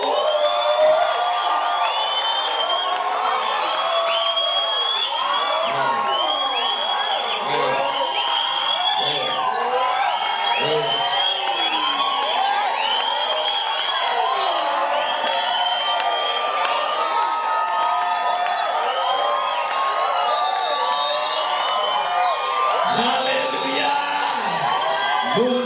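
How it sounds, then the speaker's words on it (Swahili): A church congregation at a worship service cheers, whoops and shouts joyfully, with high ululating cries, a dense continuous crowd roar that is loud and sustained, and voices rising above it. "Hebu nisikie sauti za kelele."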